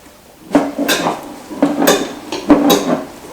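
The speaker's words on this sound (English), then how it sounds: "So I'll get that in here to the meat mixer." A metal meat mixer churning ground venison and bacon, giving three rhythmic rounds of clanking, scraping metallic rattles, close and loud, with no voices.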